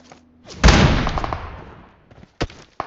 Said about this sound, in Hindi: अब यहाँ पे मैंने फटाफट से नई स्नाइपर से दो बंदे नॉकआउट कर दिए